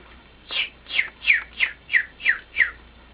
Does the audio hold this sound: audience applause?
no